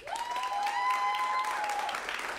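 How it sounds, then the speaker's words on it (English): An audience at a holiday movie showdown show applauds in a steady, even wash of clapping, with a high sustained whistle-like tone riding over it. "I'm gonna put my hand over the director's heads and clap for all of them"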